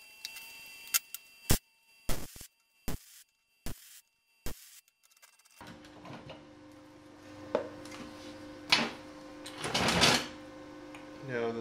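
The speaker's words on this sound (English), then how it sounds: "So we're just going to do a perimetry weld here." Welding a perimeter bead on a trailer hitch receiver for an off-road adventure trailer. A few sharp, separate zaps give way to a continuous crackling arc with louder surges, and a voice is briefly heard.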